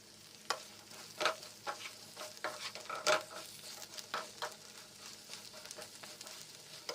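Drumsticks frying in oil with chili and salt, soft continuous sizzling broken by repeated scraping stirs of a spoon in the pan, close and fairly quiet, with no speech.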